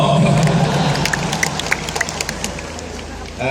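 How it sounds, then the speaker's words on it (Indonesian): Audience applause at a speech event where an Indonesian president addresses agricultural extension workers, a broad crowd clapping loudly at first and then thinning into scattered claps amid hubbub. "Tepuk tangan untuk Pak Arso."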